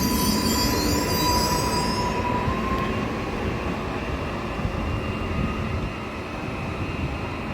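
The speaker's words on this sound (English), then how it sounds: "This is the sort of Warsaw equivalent of the S-Bahn." A Warsaw SKM commuter train runs past with a steady, loud rumble of wheels on the rails and a high squeal early on, fading slightly toward the end, with no talking.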